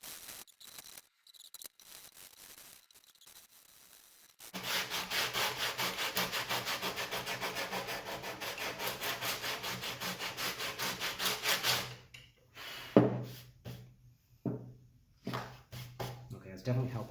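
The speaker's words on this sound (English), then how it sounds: "I'm just going to have to move to like 60 grit sandpaper." Coarse 60 grit sandpaper scrubbing across the wood of a guitar body while comfort-carving a Partscaster build, a steady rhythmic rasp running for several seconds before stopping, followed by scattered handling knocks and scrapes.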